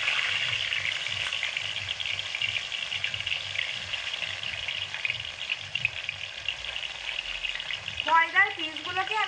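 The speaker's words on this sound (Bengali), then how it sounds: "গরম তেলের মধ্যে ময়দার পিসগুলোকে ছাড়া ছাড়া করে দিয়ে দিচ্ছি" Pieces of maida dough sizzle steadily in hot white oil in a kadai, a continuous hissing fry with faint stirring, and a voice speaks briefly near the end.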